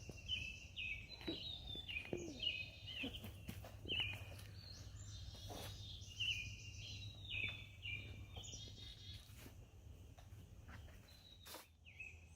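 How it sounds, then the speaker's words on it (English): A robin sings outdoors on a fairground early in the morning, a string of bright, whistled phrases repeating at a moderate distance over faint ambient rumble and scattered small noises, with no voices. "It's a robin."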